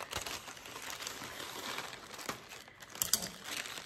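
A package is sliced open at close range, giving steady crinkling and rustling of plastic and cardboard with a few sharper tearing snaps near the end.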